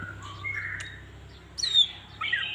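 Green leafbird (cucak hijau) giving a few short, high, bright chirps and whistled calls, fairly faint over a quiet background hum.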